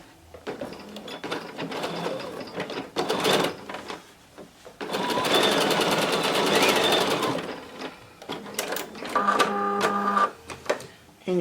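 A domestic sewing machine stitching a seam on a men's casual dress shirt runs in several bursts of rapid, whirring mechanical stitching, loud and close, separated by short pauses and handling noises.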